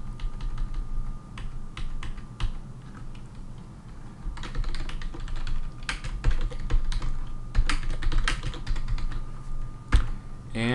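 Keys on a computer keyboard clatter in irregular bursts of close, crisp taps with short pauses between runs and a slightly louder strike near the end, no talking over them.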